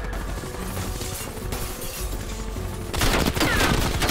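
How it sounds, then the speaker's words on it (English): Gunfire in the Call of Duty: Black Ops Cold War video game, a dense run of shots under steady game background noise that grows louder and more intense toward the end. "Shooting."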